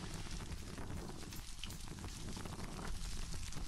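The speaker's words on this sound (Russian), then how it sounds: "снег пошел с дождем." Wet snow mixed with rain falls outdoors at about freezing, a steady, soft hiss of drops pattering on surfaces, fairly faint and continuous with no voices.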